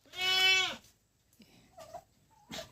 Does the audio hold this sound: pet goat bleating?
yes